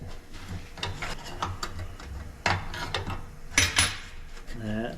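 A jam nut is snugged up on a 1930 Sears lantern made by the Akron Lamp Co., with close metallic clicks, ratcheting and clinks of metal parts, a few sharper knocks, and a brief voice near the end.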